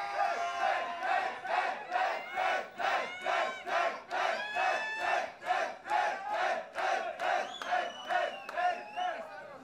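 Club crowd at a rap battle event chanting and shouting in a loud, rhythmic pulse, rising and falling roughly twice per second, close and dense throughout.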